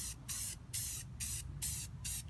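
An aerosol spray paint can lays light coats on emblem plates for a 6th-generation Camaro, with five short, even bursts of hiss separated by brief pauses and close to the mic. No one talks.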